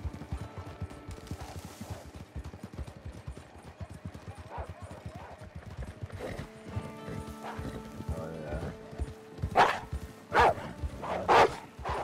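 Horse hooves clip-clop steadily in Red Dead Redemption 2, a moderate rhythmic trot with occasional louder bursts of other game sounds toward the end.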